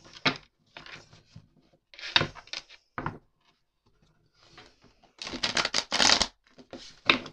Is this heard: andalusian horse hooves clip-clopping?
no